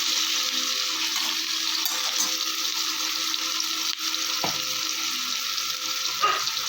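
Onion, tomato and nigella seeds fry in hot oil with a continuous close sizzle, while a spoon stirs the pan and scrapes or taps it now and then.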